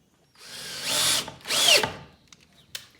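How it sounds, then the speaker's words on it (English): A power drill driving screws into a wooden bird box, two loud close whirring bursts each rising and winding down, followed by a few small clicks and knocks. "So all 6 screws have been drilled into the back of the bird box."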